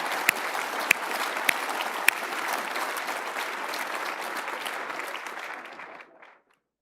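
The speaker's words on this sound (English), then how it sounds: "Now, right there, you're supposed to clap." Steady, dense applause from an audience during an interview with Deion Sanders, a full wash of clapping with a few sharper claps early on, sustained for several seconds before tapering off to silence.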